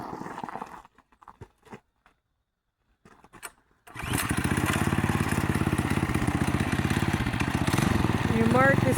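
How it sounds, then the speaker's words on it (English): A mini bike engine starts up on a track and runs loud and steady close by, revving continuously after a few seconds of quiet with scattered small noises and voices. "we're going to start out with the mini bike, see how fast we can get it to go"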